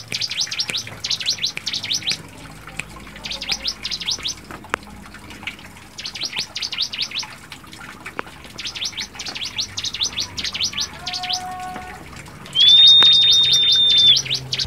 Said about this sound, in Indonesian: burung ciblek gunung ini sudah berhasil ditangkarkan di tempatnya Om Purwanto ya